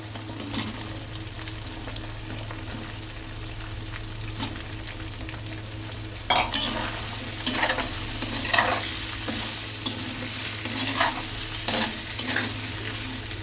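Potato pieces frying in oil with a steady sizzle, with scraping and stirring strokes that grow louder and more frequent in the second half, close by with no talk.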